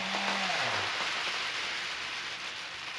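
A rain stick is tipped to imitate falling rain: a continuous close-up shower of rattling, hissing grains. A brief low tone sounds at the start, then the pattering carries on alone at an even level.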